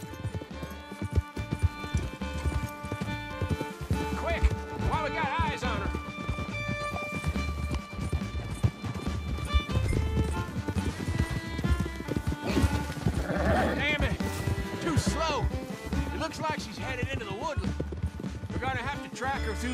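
Horse hooves clip-clopping at a gallop in Red Dead Redemption 2, a steady rapid beat under dense orchestral western music and game ambience throughout.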